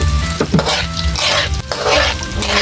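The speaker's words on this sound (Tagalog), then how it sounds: "Tsaka itong sibuyas po mga idol. Ayan, halu-haluin po." Sliced onions are stirred in a hot pan while cooking a Filipino dish, with a continuous loud sizzle and scraping utensil strokes against the pan, close up and without talk.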